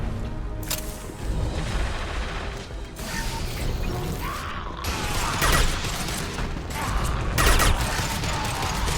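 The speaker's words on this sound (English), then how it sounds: "Firing a high-impact shot!" A high-impact weapon shot in a sci-fi video game lands amid a dense, loud mechanical clatter and crunching impacts, several sharp bursts over a rumbling background.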